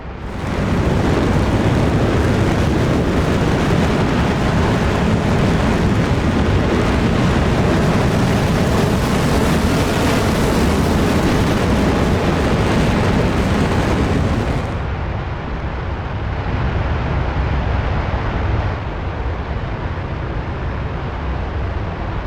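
A Heatblur F-4E Phantom II roaring in full afterburner in DCS World, a loud, steady, broadband jet thunder that drops to a thinner, quieter engine roar near the end as the burner comes off.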